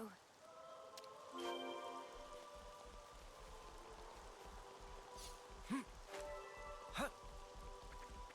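Steady rain patter hisses throughout in the video game Xenoblade Chronicles 3, with the game's melodic tones and effects layered on top and a couple of short swooshing sounds near the end.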